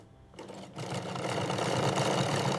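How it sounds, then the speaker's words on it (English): A sewing machine stitches the collar of a camel wool jacket in a factory. After a brief pause it settles into a steady, close, continuous whirring hum and keeps running without speech. "The collar is attached with precision stitching."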